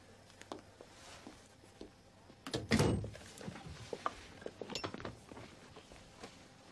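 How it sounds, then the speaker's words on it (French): A door swinging shut indoors gives one loud thump, with faint footsteps and small knocks before and after it. "Je ferme la porte."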